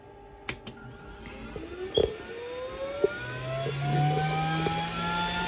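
A Glowforge Pro laser cutter powers up with clicks and a rising mechanical whine, then a steady fan-like hum that swells and holds, close and fairly quiet, with no voices.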